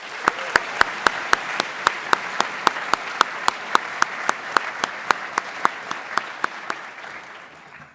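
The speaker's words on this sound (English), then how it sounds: "So let's give MJ a round of applause." An audience at a community meeting gives a round of applause for a freeride snowboarder, with dense steady clapping carried throughout and sharp, regularly spaced loud claps punctuating it near the microphone.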